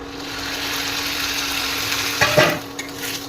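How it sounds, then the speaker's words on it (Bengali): Taro stolons (kochur loti) dropped into spiced oil with chilli powder and turmeric, giving a steady sizzle with a sharper burst of frying and stirring near the end, no voices. "বন্ধুরা আমি কচুর লতিটাকে দিয়ে দিচ্ছি,"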